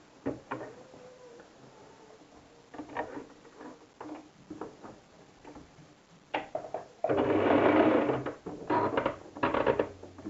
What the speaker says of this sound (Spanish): vamos a coser a la máquina desde la cintura hacia el bajo del pantalón